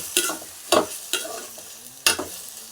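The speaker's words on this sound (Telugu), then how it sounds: "మొత్తం టమాటాలు, దోసకాయలు, పచ్చిమిరకాయలు మొత్తం వేసుకొని బాగా కలుపుకోవాలండి." Tomatoes, cucumber and green chilies stirred in a hot pan, with four sharp scraping strokes of the spoon and a soft sizzle running between them, close and clear, no voices.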